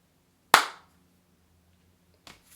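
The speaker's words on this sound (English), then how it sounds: "We're going to practice one clap." One sharp, close hand clap rings out and decays quickly in a quiet room, followed two seconds later by a much fainter second clap.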